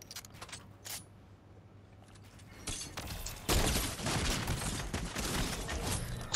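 Sniper rifle fire in Fortnite: a couple of sharp, isolated shots early on, then louder clustered gunfire and clatter building through the second half.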